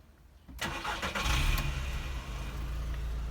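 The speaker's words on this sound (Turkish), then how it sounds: "Aracımızı çalıştıralım." A Seat car engine cranks and catches, then settles into a steady low idle, heard up close with no talking.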